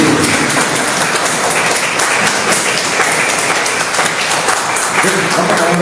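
Congregation applause in a church service, a loud, dense and sustained roar of clapping hands with voices and cheers mixed in, holding steady from start to finish.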